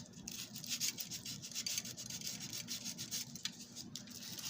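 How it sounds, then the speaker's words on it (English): Sandpaper of 100 grit rubs against the wheels of a Marx Marline toy train, a close, steady rasping scrape with quick rhythmic strokes and no talking. "I'm taking a piece of, I think this is 100 grit sandpaper."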